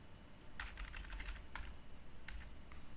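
Fingers tap on a computer keyboard in short, quick bursts of clicking, close but quiet, with brief pauses between the runs of keystrokes.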